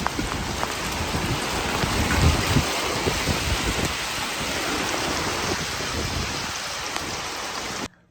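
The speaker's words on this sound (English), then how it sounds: "we got hail." Hail falls outside during a storm, a dense, continuous patter and rattle on surfaces with faint low rumbles, steady throughout before cutting off abruptly at the end.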